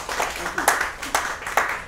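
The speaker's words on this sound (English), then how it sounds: "Can we please give Paul Zaman a round of applause?" A small audience at an author talk gives a brief round of applause, with a few scattered, fairly faint claps and some voices underneath.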